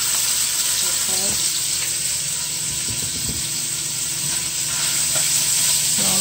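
Sausages frying in a pan for spaghetti and sausage, a loud continuous close sizzle and crackle with occasional faint knocks underneath.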